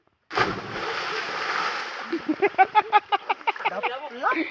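A person dives into river water with a sudden heavy splash, followed by churning, sloshing water and rhythmic splashing strokes, close and fairly loud.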